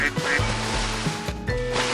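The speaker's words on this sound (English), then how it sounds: "A penguin." Penguin calls, a run of harsh, honking quack-like cries repeated in bursts over a steady musical backing, close and fairly loud.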